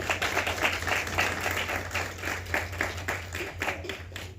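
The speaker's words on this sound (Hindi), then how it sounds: "जोरदार ताली।" Loud, dense applause from an audience at a book launch event in Ajmer, a steady wash of many hands clapping at once over a low hum.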